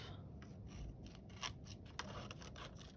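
Scissors cut through thin hamburger patty paper while folding it into a glassine bag, a close, quiet run of rapid crisp snips and rustles.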